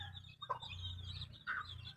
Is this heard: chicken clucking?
yes